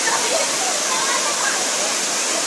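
Steady broadband roar of Erawan Waterfall in Kanchanaburi, Thailand, loud and continuous, with faint voices blending in beneath the rushing water.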